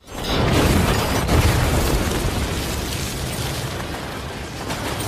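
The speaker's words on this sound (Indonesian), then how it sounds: "Akibatnya heli tersebut jatuh dan menghantam daratan." A loud, sustained explosion as a helicopter crashes into the ground, roaring and rumbling, a dense booming blast that stays heavy for several seconds before slowly easing.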